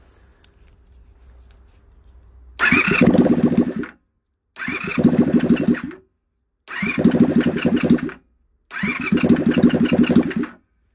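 A Honda VFR400 NC30 motorcycle from a barn-find restoration is cranked four times, each loud starter whir with engine chuffing lasting over a second and separated by short silences, after a faint low hum.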